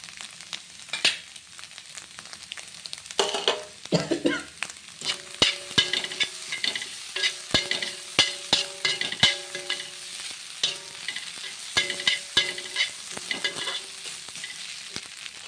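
Food with sprinkled pepper is stir-fried on a dosa griddle, giving steady sizzling and frying with repeated clinks and scrapes of a spatula against the griddle.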